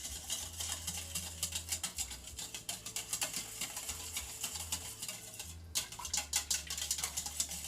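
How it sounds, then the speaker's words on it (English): A wire whisk stirs a dressing in a bowl, giving a steady run of quick, light ticking scrapes at close range with a brief pause partway through. "So you can whisk everything together."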